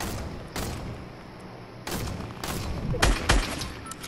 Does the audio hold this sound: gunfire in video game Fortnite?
yes